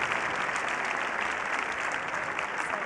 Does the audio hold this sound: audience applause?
yes